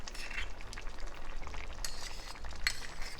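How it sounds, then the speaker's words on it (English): Butter and flour roux being stirred in a pan: soft, steady sizzling with scraping stirring strokes and a faint clink of a utensil, close and quiet, no talking. "So we're gonna mix this as the best as we can so that we can put it in there."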